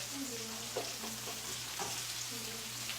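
Lemon slices sizzle in a hot frying pan alongside steak, a steady close frying hiss with a few brief stirring clatters.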